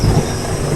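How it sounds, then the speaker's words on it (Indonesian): Rain and thunder from a video game, a steady broadband wash of rainfall with low rumbling throughout a short stretch, fairly loud and with no voices. "Wah, kok jadi hujan?"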